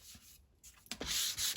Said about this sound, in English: The whole time I'm using the sanding block,